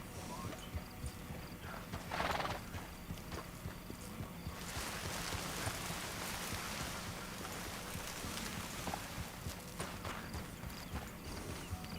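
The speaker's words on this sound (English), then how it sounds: "I think I better feed my horse as well." Horse hooves clip-clopping in a Wild West video game, a steady rhythmic clatter running throughout at moderate level, with a brief louder burst early on and a light background wash.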